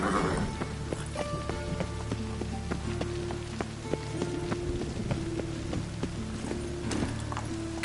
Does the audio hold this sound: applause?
no